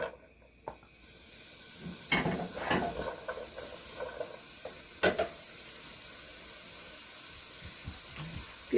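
Onion hits hot oil with a sudden sizzle that settles into a steady frying hiss, broken by a few stirring scrapes, in a home kitchen cooking spicy small fish chorchori.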